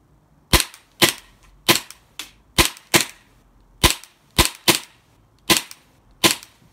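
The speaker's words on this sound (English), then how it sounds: "we're just going to give it a quick test fire" A Taran Tactical JW3 Combat Master 2011-style BB pistol is test fired, giving nine sharp, loud, close cracks in an uneven rhythm with quiet gaps between shots.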